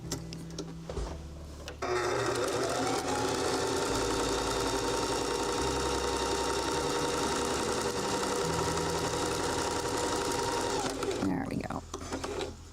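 A sewing machine quilts tartan fabric in one long, loud, continuous run of rapid close mechanical chatter lasting about nine seconds, with a brief spoken comment just before it starts.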